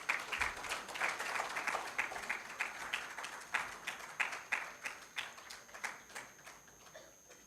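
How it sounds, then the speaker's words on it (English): A modest audience in an auditorium at a memorial oration and book release claps in steady rhythmic rounds, heard at a distance and fairly soft, with no talk over it. "A huge round of applause."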